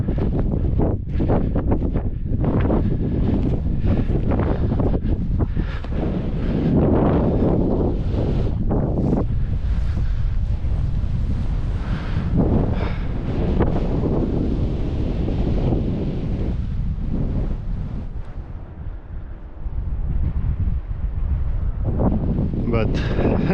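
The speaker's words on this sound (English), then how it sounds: "So it is a bit windy up here." Strong wind buffets the microphone on a steep pasture hilltop, a loud continuous roar and rumble with gusty swells that dip briefly near the end, filling the whole stretch without a break.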